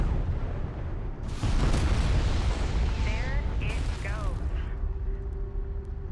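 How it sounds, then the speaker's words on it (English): Explosive charges detonate in Homeworld: Deserts of Kharak, a loud sustained rumbling blast with crackling debris that gradually fades, while a voice talks over it and game sounds continue. "let's detonate these charges"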